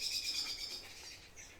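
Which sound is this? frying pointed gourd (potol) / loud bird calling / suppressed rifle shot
loud bird calling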